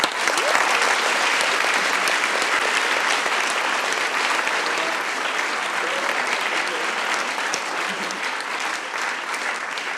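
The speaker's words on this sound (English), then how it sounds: "I just would like to get one more big applause for him." Big, sustained applause from the audience at the SensUs 2017 award ceremony, loud and even clapping from a large crowd filling the whole stretch without a break.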